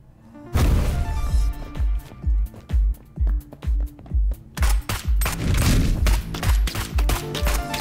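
Rapid gunfire from the video game Neon Abyss fills the clip with dense, rhythmic bursts of sharp shots and thumps over game sound, loud and continuous after a brief quiet start.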